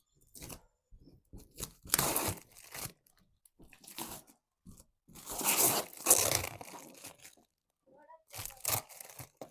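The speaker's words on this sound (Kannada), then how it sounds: "ಒಳಗಡೆ ಏನೇನಿದೆ, ಯಾವ ಥರ ಪ್ಯಾಕ್ ಮಾಡಿದ್ದಾರೆ ಬನ್ನಿ ಓಪನ್ ಮಾಡಿ ನೋಡೋಣ." A new bicycle is unpacked from its box at home, with bursts of close cardboard and plastic tearing and crinkling separated by quiet gaps, plus brief soft handling noises.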